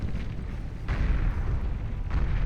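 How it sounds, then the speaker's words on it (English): Fiend units exploding in the strategy game Beyond All Reason, heard as a rumbling, noisy boom that swells at about one second and again near the end over a dense background of game noise. "How much damage that fiend explosion did"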